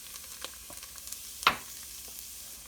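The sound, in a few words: pepper, celery and onion sizzling as they're added to the roux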